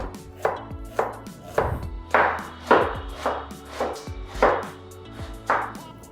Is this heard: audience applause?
no